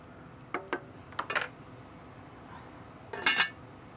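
A utensil clinks and scrapes against a pot while shrimp and bay leaves are stirred, several light metallic knocks in two clusters over a quiet simmering background.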